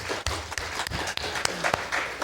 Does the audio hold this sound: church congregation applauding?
yes